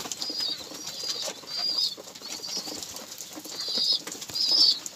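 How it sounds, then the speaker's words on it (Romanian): Pigeons flap their wings while gathering to feed at a loft in the morning, giving repeated soft fluttering bursts with faint chirps, close by and steady over the whole stretch. "porumbei sunt la masă"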